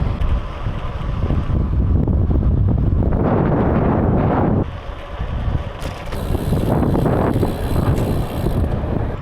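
Strong gusty bora wind in a valley roars against the microphone, surging and easing, with a brief lull partway through and some faint mechanical rattling.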